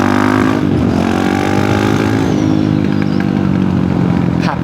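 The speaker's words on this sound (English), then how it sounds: "There is something too about a good thumper, a good single cylinder motorcycle. It just sounds throaty." A single-cylinder thumper motorcycle engine runs loud and close for the whole stretch, its throaty rumble steady with slight shifts in pitch as it revs and eases, and no voices over it.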